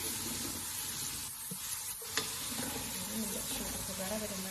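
Onions frying in oil in a pan give a steady, close, loud sizzle that runs unbroken throughout, with brief stirring scrapes partway through.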